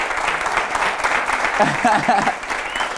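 A live studio audience applauds at a talk session, a steady patter of clapping with voices and a brief cheer rising through the middle.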